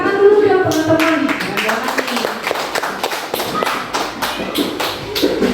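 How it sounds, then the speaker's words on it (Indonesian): Brief group applause in a school learning-community meeting, a scattered handful of people clapping with uneven taps and thuds, fairly close and loud, with some voices in the room. "Tepuk tangan dulu ya teman-teman."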